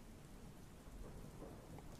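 A thunderstorm brings steady rain hissing onto surfaces with low rumbling, heard faintly and evenly throughout with no voices.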